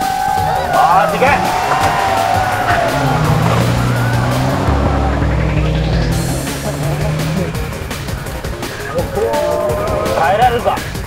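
Drift cars take the final corner of a team drift battle, engines roaring and tires squealing loudly in long skids over about eleven seconds, with crowd noise and an excited commentator talking over it.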